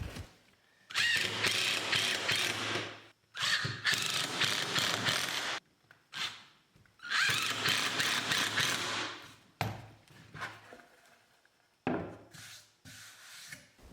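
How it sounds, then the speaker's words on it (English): A power driver sends screws into the wooden top board of a foot stool, giving several loud whirring bursts of a few seconds each, separated by short quiet gaps, close up and with no talking. "then glued and drove the screws in"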